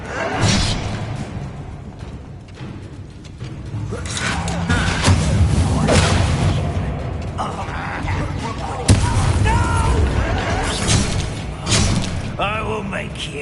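Bombarda spell blasts in Hogwarts Legacy gameplay on PS5: dense booming explosions and whooshing magic effects over continuous game noise, with sharp bursts near 9 and 12 seconds, fairly loud throughout.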